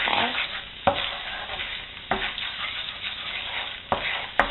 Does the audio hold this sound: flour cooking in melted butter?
yes